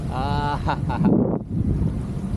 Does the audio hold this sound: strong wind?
yes